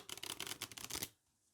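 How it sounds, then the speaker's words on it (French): A riffle shuffle of playing cards done with the hands braced on a support: a quick burst of crisp, close flutter-clicks as the halves interleave, ending abruptly in silence. "Ici, c'était pour le mélange américain avec un appui."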